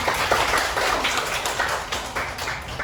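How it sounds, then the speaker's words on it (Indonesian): A classroom of students claps for a classmate who has just led the prayer, a busy, uneven patter of many hands that rises and falls over a few seconds, fairly close and without talk. "tepuk tangan untuk Miari"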